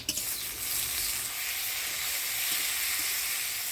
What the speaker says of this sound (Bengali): পেঁয়াজটা হালকা লাল লাল করে ভাজি নিলাম, এবার দিয়ে দেবো টমেটো কুচি।